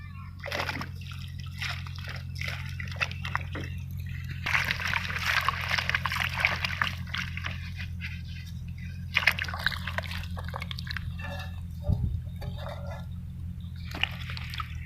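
Palmyra tubers being rinsed of soil in water, with intermittent splashing and sloshing over a low steady hum, moderately near and fairly quiet.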